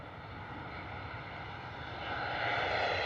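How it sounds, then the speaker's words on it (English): A Ryanair airliner approaching to land at Bristol Airport on a wet, stormy evening, its steady engine roar rising and growing louder toward the end over rainy background noise. "Ryanair coming in fast this evening."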